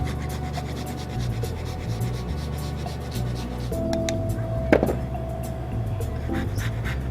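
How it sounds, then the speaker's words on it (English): Cheese grated over a plate of carbonara: continuous close rasping and rubbing strokes over steady kitchen background noise, with a brief clink midway and no speech. "I'm going to grate more cheese."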